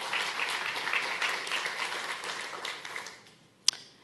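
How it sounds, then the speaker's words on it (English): An audience at a design talk gives a round of applause, a dense crowd clapping that holds for a few seconds and then fades out, ending on one sharp clap. "So round of applause for leader."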